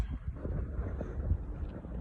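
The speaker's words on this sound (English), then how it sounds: "It's probably gonna be a little windy." Wind buffets the microphone in a low, continuous rumble that swells and dips unevenly, with nothing else standing out.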